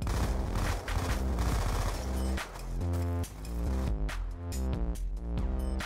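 Continuous automatic gunfire from the video game Black Ops 2, loud and dense, heavy bursts layered with game music and effects for the full stretch, no talking.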